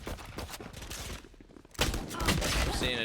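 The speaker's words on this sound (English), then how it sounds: "Gunfire getting traded." Gunfire traded in a Valorant match, bursts of rapid shots, then a short lull, then louder sustained firing and impacts.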